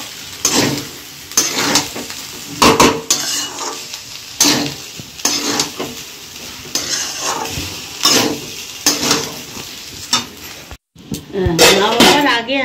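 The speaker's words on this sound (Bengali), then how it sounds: "ভাতটা দিয়ে এবার তলা থেকে উপরটা ভালো করে নেড়ে এগুলোকে আমি ভালো করে একটু ফ্রাই করে নেব।" Cooked rice for mutton biryani is stirred and fried in a pot, with repeated scraping and clattering strokes over a continuous sizzle, up close and fairly loud, with a brief pause near the end.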